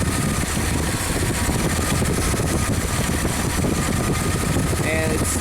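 A 1988 Chevy K1500 truck engine idles close and loud, with a dense, even rumble and fast steady pulsing throughout, while someone talks over it.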